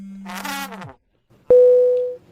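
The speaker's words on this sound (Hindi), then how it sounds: "माफ कीजिए, मेरा फोन बज रहा है।" A mobile phone rings close and loud: a buzzy electronic tone, a short silence, then a bright sustained chime that fades out.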